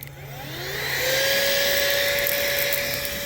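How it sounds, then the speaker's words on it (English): A small electric blower used to start charcoal in a Weber kettle grill runs with a steady high-pitched whine and airy rush, rising slightly in pitch early on and holding loud and close for the rest. "This little blower."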